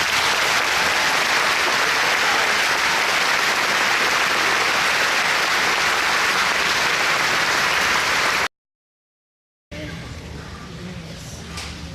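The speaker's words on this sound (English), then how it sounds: "Let's give a round of applause." Commencement audience at Trine University's Class of 2015 ceremony breaking into loud, dense applause that continues for about eight seconds, followed by a brief gap of silence and then a softer stretch of crowd noise.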